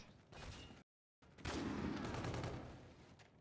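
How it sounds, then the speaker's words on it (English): Video game gunfire from Infinite Warfare on PS4, a 3-round burst weapon: a loud rattling volley, a brief silent gap, then a sustained dense burst of shots that slowly fades. "Hit fire with 3-round burst?"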